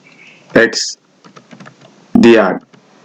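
Crisp clicks of typing on a computer keyboard while entering Python code, a scattered run of light keystrokes heard between two short bursts of a nearby voice.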